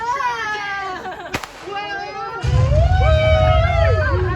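Dynamite explosion effect set off at an outhouse on the Snake River Expedition ride, a sudden sharp crack followed by a loud, sustained low rumble and hiss, with people chattering and shouting around it.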